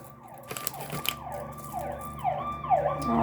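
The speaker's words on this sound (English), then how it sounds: "that's an ambulance." Outside a home in town, a wailing ambulance siren sweeps up and down in repeated cycles, moderately distant, with some crunchy handling noise nearby early on and no talking.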